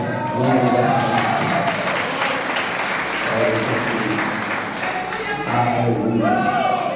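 Sustained congregational applause fills a church communion service, steady and dense from start to finish, with a voice or singing rising over the clapping at intervals.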